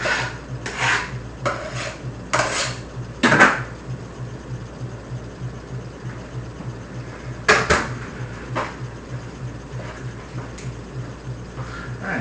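A spoon stirs a cilantro mixture in a pot, making several loud scraping strokes against the metal in bursts over a low steady hum, close by and with no talking.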